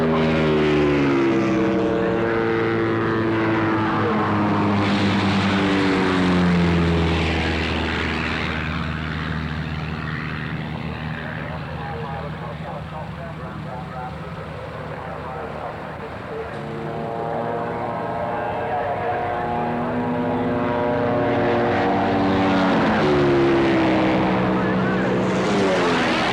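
Engine noise swells and fades over a long stretch as a helicopter races a motorbike at an airshow in Wanaka, New Zealand, loud at the start and end, with a commentator talking throughout.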